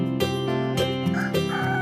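A rooster crows in a few loud, harmonic bursts, close by and clear, with no talking.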